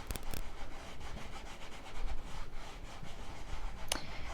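Paint being rubbed off the clear-coated surface of a blank canvas planner, a steady, close scrubbing friction that carries on throughout with a few brief sharper scrapes.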